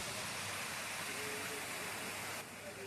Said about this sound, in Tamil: இங்கே பாருங்கள், ரைட் ஹேண்ட் சைடில் சின்னதாக நீர்வீழ்ச்சி வருது, தண்ணி வருது. அதில் அந்த சத்தத்தையும் கேட்குறதுக்கு ரொம்ப நல்லா இருந்துச்சு.